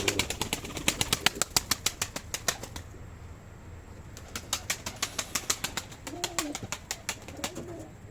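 Pigeons in a loft coo low and repeatedly while sharp wing flaps burst in clustered runs, a quieter gap breaking the flurries midway; near and fairly loud, with no talking.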